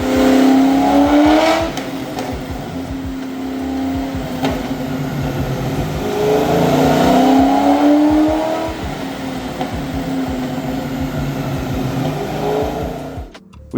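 A smoking Ford SVT Cobra engine runs on a dyno, loud and close, revving up and easing back in slow repeated sweeps with a steady droning roar throughout.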